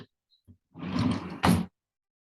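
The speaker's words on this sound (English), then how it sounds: "I gotta shut this door now." A door being shut indoors: a brief rolling, scraping movement followed by a sharp thud as it closes, near and fairly loud, then silence.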